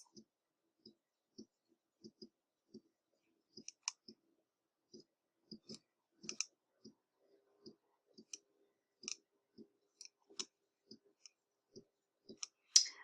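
A computer mouse clicks steadily on images in design software, a string of quiet, evenly spaced taps close to the microphone, faint and without talk.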